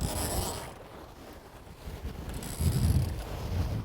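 Mainsheet being sheeted back in on a double-handed sailing yacht, a steady mechanical rattle of line running through blocks and pulleys under strong wind and water noise, building louder toward the end.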